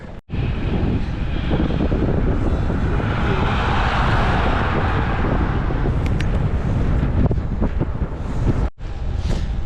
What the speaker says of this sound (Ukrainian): Вітер опять сьогодні в обличчя.